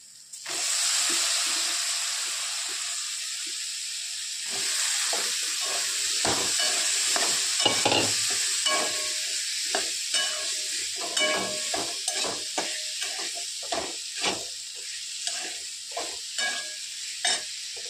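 Potatoes and French beans sizzle steadily in a hot pan with a pinch of asafoetida for a Marathi dry bhaji, while a spoon stirs and scrapes in repeated strokes, close and clear.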